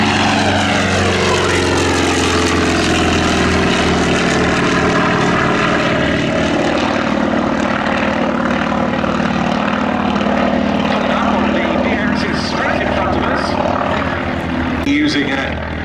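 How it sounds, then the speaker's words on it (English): Wildcat and Corsair Navy propeller fighters taking off from grass at Duxford, loud rough piston engine roar with droning prop harmonics, sustained and close, easing slightly near the end. "we're going to get the three Navy fighters into the air underneath them, led off by the Wildcat, using the grass. To be followed off by the Corsair"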